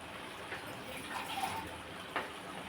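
Water is poured into a cooking eggplant curry, a steady soft hiss and splash lasting a few seconds, close by and fairly quiet, with a couple of brief louder splashes.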